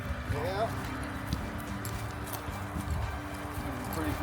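A horse walks on a ranch with hooves clip-clopping in a steady, moderate rhythm under a low background hum, while people talk faintly nearby.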